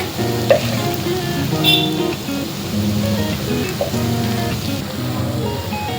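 Dry fish roast with chili powder being stirred in a pan, giving a steady sizzle with soft scraping strokes and faint clinks, close and moderately loud, with no talking.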